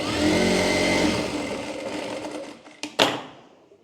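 A sewing machine runs steadily and close while stitching a deep-neck back-hook blouse, size 38/40, then stops, followed by a couple of sharp clicks.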